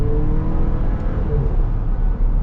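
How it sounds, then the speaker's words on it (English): A 2025 Chevy Traverse Z71 engine pulls steadily under acceleration, a smooth sustained drone with road and cabin hum, heard from inside the vehicle without talk. "man, this engine's not bad at all."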